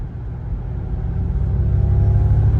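A Ford Mustang Mach-E GT electric car accelerates with a loud, deep rumble that builds steadily, heard from inside the cabin.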